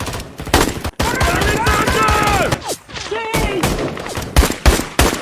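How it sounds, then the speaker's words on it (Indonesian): Russian soldiers fire from a distance in sharp, repeated volleys of gunshots that punctuate a film scene, mixed with shouting voices and dramatic sound effects. "kelompok tentara Rusia yang menembaki mereka semua dari kejauhan"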